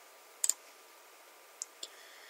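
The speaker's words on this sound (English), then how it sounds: "So click the new image button and choose an image." A computer mouse clicks faintly: a quick double click, then two single clicks, over quiet background hiss.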